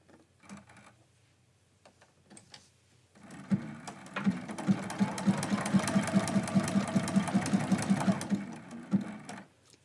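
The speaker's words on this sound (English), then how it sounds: "now we're gonna just jump right down and stitch the top of the little tips of the candy cane." A sewing machine stitches the tips of a candy cane on a quilt block, starting with a few short taps and then running in a steady, close rhythmic whir for several seconds before stopping.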